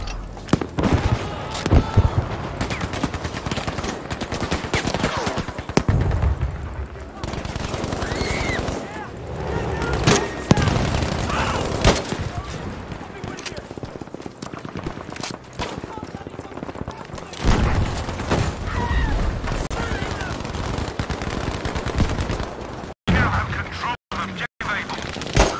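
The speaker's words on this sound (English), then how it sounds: "Hip shooting's a little tough on this game." Hip-fire gunfire in Battlefield V played on Xbox One: bursts of shots and battlefield booms recur through nearly continuous play, with someone talking over the action throughout.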